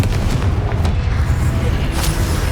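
Confringo blasting spell going off in a Harry Potter-style spell-casting game, a loud, dense rumbling burst of booms that fills the whole moment, with little else audible.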